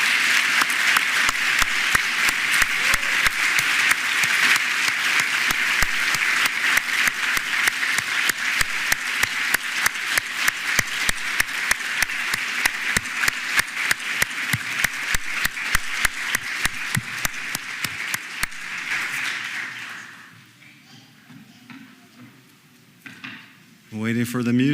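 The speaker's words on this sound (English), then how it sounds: "Let's have a round of applause for our class of 2024." A graduating medical school class draws sustained applause from the audience at their graduation celebration, dense clapping dotted with sharp individual claps, which fades after about twenty seconds into a quieter room.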